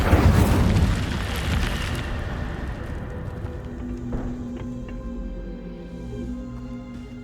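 The Incendio fire spell is cast in Hogwarts Legacy: a loud whooshing burst of flame up front that decays into a lingering crackling, ringing tail.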